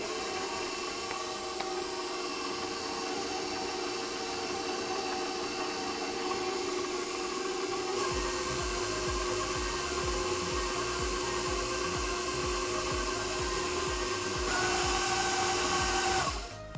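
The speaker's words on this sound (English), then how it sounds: "Trying to get every last bit of oat into that mixer. And we're gonna want to definitely mix this on slow." An electric stand mixer churns vegan, allergy-friendly oatmeal cookie dough on a slow setting, a steady mechanical whir with a continuous motor hum that grows slightly rougher partway through and runs alone without talk.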